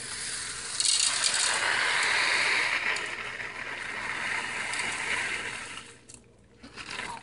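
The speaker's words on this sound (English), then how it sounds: "I'm gonna add 2 cups of split peas" Dry split peas poured into a pot, a continuous rattling, hissing cascade of small hard grains that swells, holds for several seconds, then tapers off near the end, with no talk.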